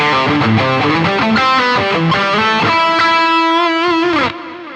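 Saturated electric guitar played through a Boss GT-1000 with reverb and delay, loud distorted notes and chords moving in a short phrase before a final sustained note drops off into a ringing tail.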